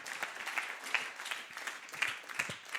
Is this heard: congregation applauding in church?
yes